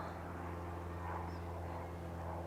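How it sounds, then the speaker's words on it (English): A faint, steady drone of an aircraft passing far overhead, with a low hum persisting throughout and no talking. "If it wasn't for this plane going over."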